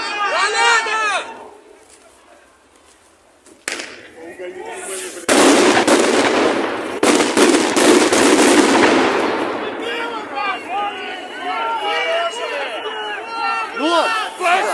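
Loud bangs and crackling blasts from grenades burst amid a Belarus street protest, a dense barrage of explosions lasting several seconds while a crowd screams and people shout frantically before and after.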